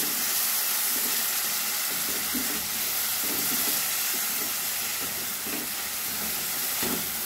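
Ground cumin, coriander, turmeric and Kashmiri chilli paste fry in a pan for a hilsa fish-head mung dal, giving a soft continuous hiss and sizzle with faint scraping stirs, quiet and steady, no voices.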